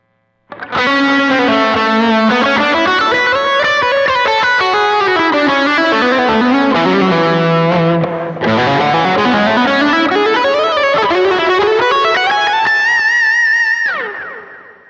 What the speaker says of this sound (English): here's my lead tone with delay and reverb